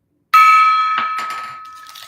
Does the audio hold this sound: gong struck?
yes